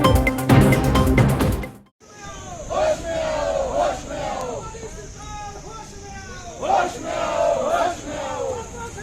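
Congress party workers hold an outdoor protest rally over the JEE and NEET exams in Dhalpur, Kullu, with a crowd shouting slogans in repeated rising bursts, loud and continuous after an abrupt cut from music.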